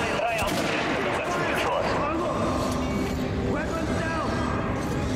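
Silenced assault rifle firing in the video game Metro: Last Light Redux: rapid muffled shots in short bursts over game ambience, with someone talking over the gunfire.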